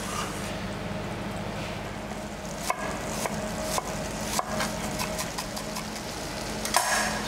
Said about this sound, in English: We're going to crush the garlic and just chop it up nice and fine.